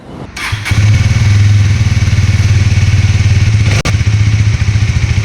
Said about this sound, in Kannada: ಬೈಕ್ನ ಎತ್ಕೊಂಡು ಹೋಗೋಣ